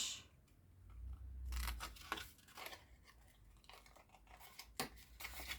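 Scissors snipping a small paper tab for a Stampin' Up mini matchbox, a few close, crisp cuts and rustles of paper, quiet and without speech.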